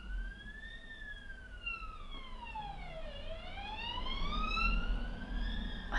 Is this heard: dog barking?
no